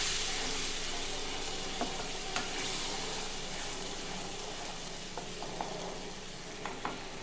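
Spice paste frying in a pan with a little added water sizzles in a steady, dense hiss close by, with a few faint scrapes and taps of a stirring spoon scattered through it.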